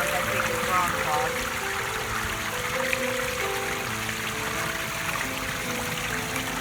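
Steady rushing and trickling of water spilling over rocks into a koi pond from a small built stream waterfall, continuous and fairly close, with no talking.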